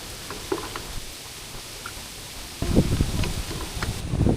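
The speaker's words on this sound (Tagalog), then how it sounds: "Masyado palang malakas ang hangin nito mga par." Strong wind buffets the microphone outdoors on a pepper farm on transplant day, a steady rustling roar that swells louder and gustier halfway through, with no talking.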